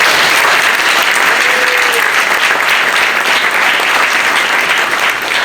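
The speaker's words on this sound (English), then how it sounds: "we should give ourselves a round of applause" An audience at an Eid ul Fitr celebration in New York applauds, a loud, dense, sustained wash of many hands clapping for several seconds, close and continuous without speech.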